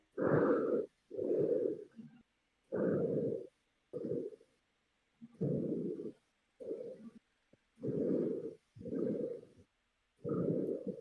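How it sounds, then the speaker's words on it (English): Heavy breathing picked up close on an earbud microphone, with about ten loud, rhythmic breaths in a steady cycle and short silences between them, and no talking. "Dude, you need a drink. You're breathing like real heavy."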